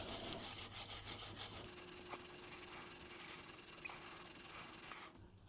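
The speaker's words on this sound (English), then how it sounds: "I'm using a wire brush, but you can use sandpaper if you really want to." Wire brush scrubbing a metal bearing face in quick, steady back-and-forth strokes, a close, faint rasping that turns into a continuous scratchy rub and then stops near the end.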